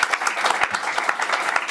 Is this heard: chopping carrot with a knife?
no